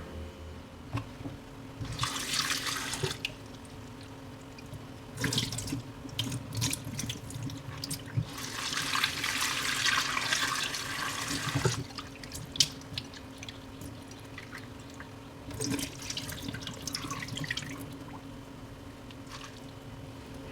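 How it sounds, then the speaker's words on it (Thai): Ingredients for a Japanese miso soup being rinsed under a running tap in a kitchen sink, with bursts of splashing water that swell and fade several times over a steady background. "ล้างทำความสะอาดก่อนเนาะสักสองน้ำ"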